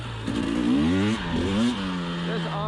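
A 2020 KTM 300 XC TPI two-stroke enduro motorcycle riding off-road on a trail, its engine rising and falling in pitch with throttle changes, fairly faint and at a middling distance.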